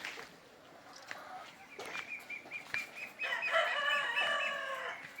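Chickens on a small farm, including a white hen about five months old: soft clucks, a flurry of flapping wings, then a loud rooster crow rising clearly above the yard.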